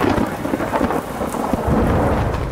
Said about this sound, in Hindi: कड़कती बिजली का जोर, गरजते बादलों का शोर, कराची में मानसून का 5वां दौर।